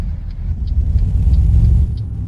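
A ZIL 130 truck engine in Euro Truck Simulator 2 drones at a steady, loud low rumble, holding even throughout with faint high tones flickering above.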